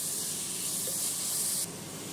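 Mutton sizzles hard on a high flame in a pot for a spiced stew, a loud, dense, steady hiss that drops abruptly to a softer sizzle near the end.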